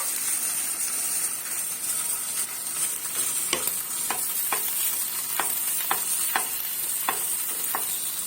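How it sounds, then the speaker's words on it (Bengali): Breakfast food fries in a pan with a constant bright sizzle, while a spatula scrapes and taps the pan in a loose series of crisp knocks through the second half, with no voices. "এটাকে এবার হালকা করে এরকম নাড়াচাড়া করে এটাকে কুক করে নেব"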